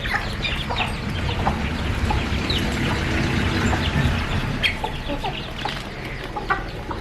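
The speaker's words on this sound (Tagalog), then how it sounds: "Ay, nako yung mga manok na yan." Several chickens cluck and squawk nearby in a busy, overlapping chorus that carries on steadily throughout.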